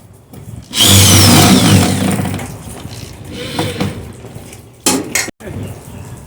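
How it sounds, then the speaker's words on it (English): A power drill whirs loudly for about a second as it drives a screw into a still air box, followed by quieter clattering and one short final burst. "so I can use the drill to screw it in"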